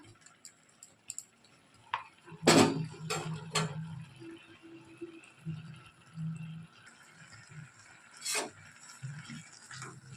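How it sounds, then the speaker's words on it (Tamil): A spoon stirs ground coconut into a pot of brinjal and chana dal kootu. Sparse light clicks and taps sound close by, with one sharp clatter and a few scraping knocks at irregular intervals. "இப்போ தேங்காய் போட்டு கிளறி விட்டுட்டாச்சு"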